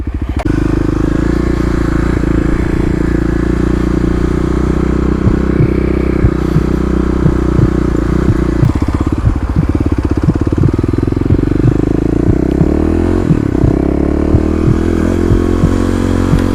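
A Kawasaki KLX351 dirt bike accelerates in second gear on an off-road ride, its engine droning loud and steady throughout, with rising pitch sweeps as the throttle opens and some clatter near the end.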